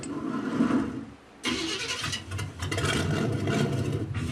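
The engine of the Tankenstein, a homemade tank-car hybrid, catches after a short hush and settles into a loud, rough, steady running rumble close by.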